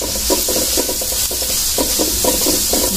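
Spices including dried chilli powder, green chilli, cumin and bay leaf fry in hot oil for a boal fish curry, a steady sizzle under repeated rhythmic scrapes of a spoon stirring the pan, close and continuous.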